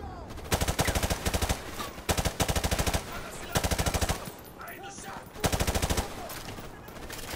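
Rapid automatic gunfire from the Modern Warfare Remastered campaign rattles out in five or six short, loud bursts, with voices talking in the gaps between them.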